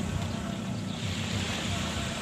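Sea waves washing in on a rainy day, a steady, loud broadband roar of surf with wind buffeting the microphone throughout, no distinct breaks between swells.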